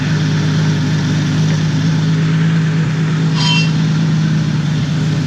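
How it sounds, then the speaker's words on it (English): A deep, steady exhaust drone from an idling turbocharged car engine with a new turbo and exhaust manifold, close and loud, holding an even tone throughout. "the exhaust note, that is crazy what a different manifold and turbo will do. It sounds really deep."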